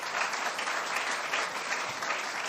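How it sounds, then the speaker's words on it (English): A crowd at a public event with city officials applauds, a steady wash of many hands clapping evenly throughout, fairly distant and uniform. "Let's give him a round of applause."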